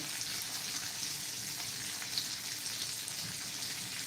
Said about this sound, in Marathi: अशाच पलटी करून आपण हे बांगडे एकंदरीत आठ आठ मिनटं आठ ते नऊ मिनटं आपण फ्राय करायचे आहेत